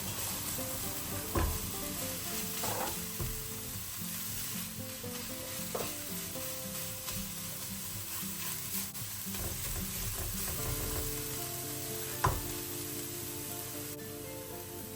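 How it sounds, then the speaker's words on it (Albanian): Onions and spices sizzle steadily in a hot pan while being stirred, with a few sharper scrapes and clinks of the utensil against the pan. "do t'i përziej her pas here duke lënë të skuqen bashkë me qepën për 1 deri në 2 minuta"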